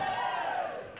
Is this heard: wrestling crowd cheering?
yes